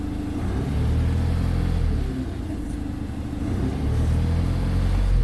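A Renault Master van engine revving as it accelerates, a steady low rumble that swells and eases a couple of times, loud and close with no talk over it.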